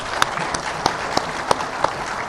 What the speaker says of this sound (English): I would want you guys to applaud for the whole department and the organizers.